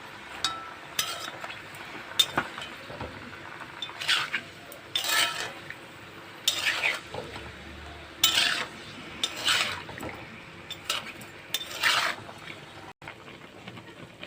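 A spoon stirs and scrapes bottle gourd leaf curry with fried lentil dumplings in a metal pan, giving intermittent clinks and scraping strokes at an irregular rhythm over a soft background, with no voices.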